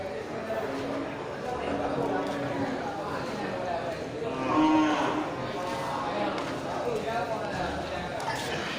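Cattle low at a busy livestock market, with a few moderate moos rising out of steady crowd chatter and general bustle.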